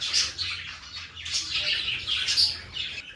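Zebra finches chirp and squeak in a rapid, busy chatter of short, bright calls, several birds overlapping at close range with no talking.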